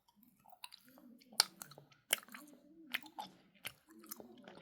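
Close, wet chewing of jelly candy, with soft squishy mouth sounds and a few sharper clicks in an uneven rhythm, otherwise quiet.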